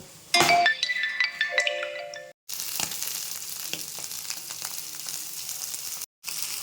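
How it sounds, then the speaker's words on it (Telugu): Soaked paneer frying lightly in oil in a kadai, a steady loud sizzle with clinks and stirring in the first two seconds, then a continuous crackling hiss that stops briefly near the end. "ఇందాక మనము ఈ తడిపి పెట్టుకున్న పన్నీర్ని ఇందులో వేసి లైట్గా వేయించుకోవాలి"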